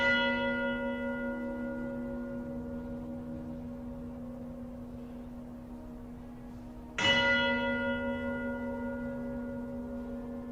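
A church bell rings with a long, sustained tone that slowly decays, then a second loud strike comes about seven seconds in and resonates clearly again.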